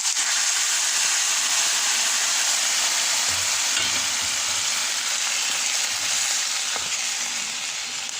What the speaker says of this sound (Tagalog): Gawin natin lagyan ng tubig.